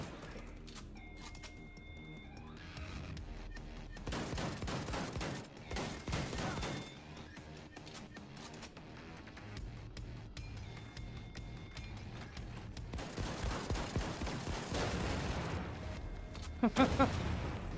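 Gunfire and shotgun blasts from the Wolfenstein II video game come as repeated bursts of shots at moderate volume, with a brief loud blast near the end over game background noise.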